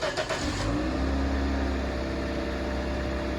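A car engine cranks briefly and catches, then settles into a steady, fairly quiet idle hum close by.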